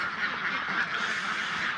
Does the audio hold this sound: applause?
no